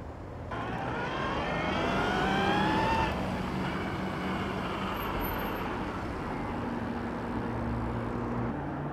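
A V3 Paradox Kinetics motorbike pulls away with a rising whine over a continuous engine roar that peaks early, then settles into a steady drone.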